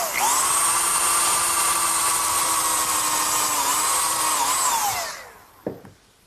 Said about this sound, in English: I'm going to pre-drill for the screws using a combination drill countersink.